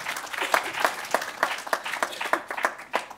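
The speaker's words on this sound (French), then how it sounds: "je pense que vous pouvez les applaudir." An audience at an agricultural direct-marketing awards ceremony claps, with steady, moderately paced applause from a modest crowd of hands that carries on throughout.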